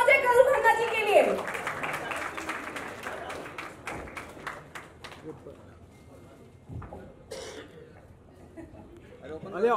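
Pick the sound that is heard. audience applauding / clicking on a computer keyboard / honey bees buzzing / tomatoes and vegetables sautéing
audience applauding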